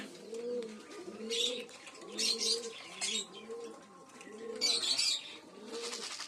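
Pigeons cooing while being fed, a repeated rhythm of low throaty coos close by, mixed with bursts of higher chirps and fluttering, moderately quiet overall.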